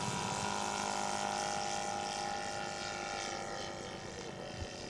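A scale model Fleet biplane, powered by a Sidel engine, drones overhead at an aircraft show, a steady loud propeller buzz holding evenly and easing slightly as it passes.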